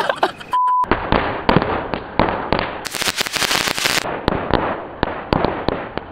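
Firecrackers set off inside a water gallon at midnight, heard as a rapid series of loud, sharp bangs and pops close by, with a brief electronic beep near the start.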